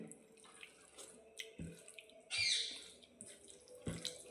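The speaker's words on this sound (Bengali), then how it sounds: "গোটা মটরশুঁটি জলের মধ্যে খুব ভালোভাবে ধুয়ে তারপর দেবেন।" Whole green pea pods being washed in water in a kitchen sink, with running tap water splashing and trickling steadily, a louder gush of flow midway, and occasional clunks, close by with no talking.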